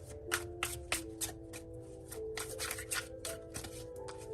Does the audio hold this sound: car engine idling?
no